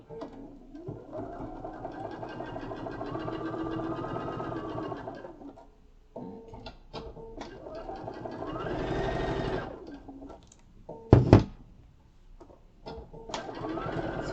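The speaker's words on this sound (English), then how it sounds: "Just basting it into place, really." A sewing machine bastes fabric into place for a hanging car organiser, running in steady whirring stretches that speed up and slow down, with brief stops, a sharp clunk near the end, and soft handling noises between runs.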